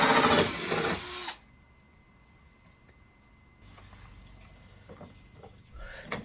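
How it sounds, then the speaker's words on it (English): A power drill bores mounting holes for a Nilight 90102D 4-in-1 switch panel in two short, loud whirring bursts, one at the start and one at the end, with a quiet pause between. "Here I am just drilling out my holes where I will be placing this product."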